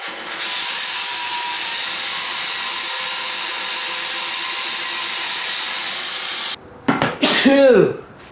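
A bandsaw cuts a notch in a pallet board. A steady, even whine of blade through wood runs for about six seconds, then stops abruptly, and a brief voice follows at the end.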